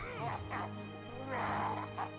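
A war dog in the video game Battle Brothers gives several short yelping barks in quick bursts amid game combat sounds.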